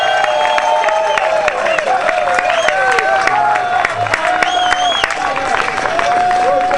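Parade crowd at the Nimbin MardiGras rally cheering and clapping, a steady wash of applause and whoops with voices and whistles rising over it throughout.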